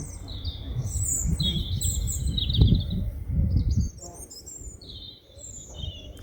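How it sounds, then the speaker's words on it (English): Birds chirp and warble repeatedly in the distance over a low rumbling narrowboat engine drone, with brief quieter moments. "Listen to them birds."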